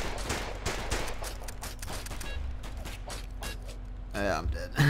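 Pistol gunfire in the top-down video game Of Guards and Thieves cracks out as a run of quick, irregular shots in close succession, followed by a few mechanical clicks and clatters near the end.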